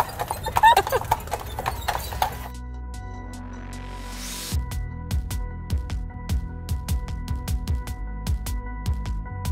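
Horse hooves clip-clopping at a steady walking rhythm on a paved street, loud and close, with a brief whinny and some street noise around it.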